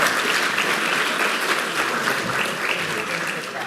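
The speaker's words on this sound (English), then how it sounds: "Please join me once again. Give a warm round of applause." A warm round of applause fills a hall at a talk on medicine and innovation, loud, sustained clapping from a large audience that tapers a little at the end.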